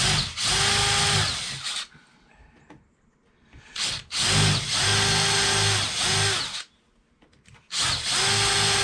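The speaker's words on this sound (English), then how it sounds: "If you have it on reverse, then it won't cut into the wood, and then you drill backwards." A power drill running in reverse whirs into wood in three separate bursts, each lasting a couple of seconds, separated by brief quiet pauses.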